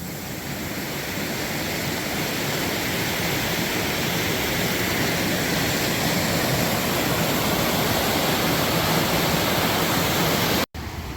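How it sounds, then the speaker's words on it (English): Cold creek water rushes far below a steep crossing near a gold prospecting site, a dense, unbroken roar that holds steady and loud for the whole stretch, with a brief dropout just before the end. "It's a long way down into rushing cold water."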